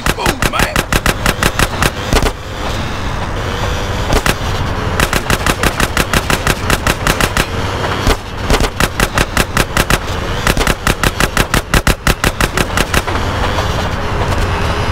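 Rapid bursts of loud automatic gunfire in Grand Theft Auto: San Andreas repeat in quick rhythmic volleys, broken by short pauses, under a constant rumbling background.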